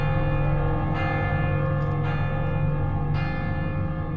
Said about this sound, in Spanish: A lo lejos podemos oír las campanas de Viviers, Mondol, Carfantin y Baguères-Morvan